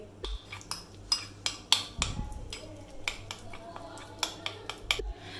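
A spoon stirs whitening powder into a paste in a small container, giving a series of sharp clinks and taps against the bowl, irregular and close, with a voice talking underneath.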